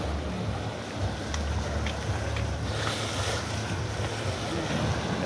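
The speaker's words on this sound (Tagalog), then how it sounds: "Malaro yung alon dito. Mahangin, yan." Waves wash and slosh against the quay at the Mykonos cruise port near moored yachts, with steady gusting wind buffeting the microphone in a continuous, moderately loud roar.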